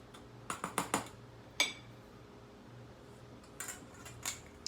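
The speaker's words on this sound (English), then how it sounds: "I'm going to go ahead and mix this together." Batter ingredients are mixed together in a bowl, with a handful of sharp utensil clicks and taps in short bursts against a quiet room hum.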